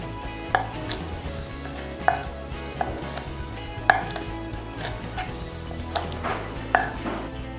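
A knife chops green chillies on a board while chilli chicken is prepared: about seven sharp, separate strikes at an uneven, unhurried pace, close and clear over quiet kitchen background.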